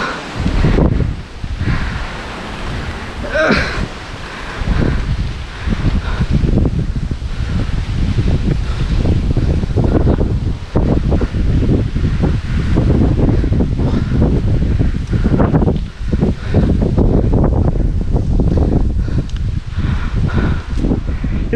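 Strong wind sweeps across the hilltop viewpoint at Pallassana Vamala as light rain approaches, roaring continuously and buffeting the microphone from start to finish.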